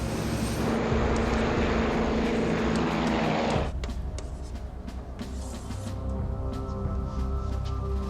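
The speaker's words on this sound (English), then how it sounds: "The plane lifts off, less than 3 minutes after it started to taxi." A passenger airliner rolls through rotation and lifts off on its takeoff run, a loud steady engine roar that drops sharply partway through, leaving a lower continuous rumble with scattered clicks and knocks.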